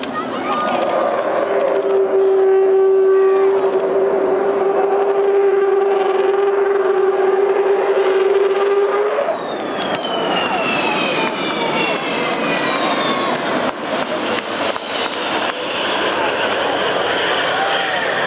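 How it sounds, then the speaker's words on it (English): An Avro Vulcan XH558 jet flies past, first holding a long, loud, steady howling tone, then shifting into rising and falling whines and a broad roar, with voices talking over it. "This must be the longest Vulcan XH-558 howl, probably one of the most distinctive and haunting engine noises in aviation history"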